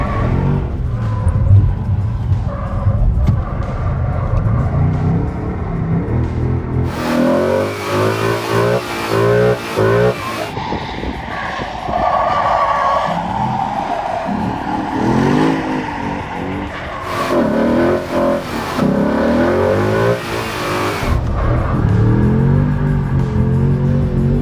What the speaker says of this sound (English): let's see if I can drift a lap of Watergrasshill in the Mustang